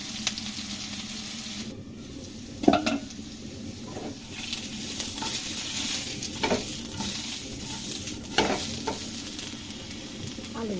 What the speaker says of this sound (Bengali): আলুগুলোকে একটু ভেজে নেব। 1 টেবিল চামচ মতো সরষের তেল দিয়ে দেব।